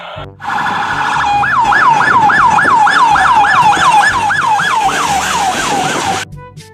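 Ambulance siren wailing loudly and close by in a fast rising-and-falling pattern, about fifteen sweeps over several seconds, starting and stopping abruptly.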